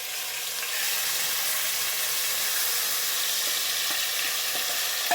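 Shrimp go into hot oil with onion and break into a loud, continuous sizzle that swells after the first second and holds steady, close by and without speech.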